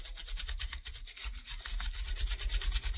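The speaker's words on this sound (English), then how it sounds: "I want to give it a little rub on the inside here, just to get that nasty stuff off" The inside of a Frontier pocket knife is rubbed clean during a restoration, a fast scratchy back-and-forth friction that stays close and continuous, with no talking.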